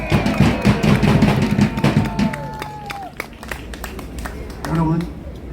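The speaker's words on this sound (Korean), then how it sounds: "박수 한번 해주시기 바랍니다" A large crowd applauds at a political rally in the street, with brisk, dense clapping and cheering up front that thins out while voices carry over it.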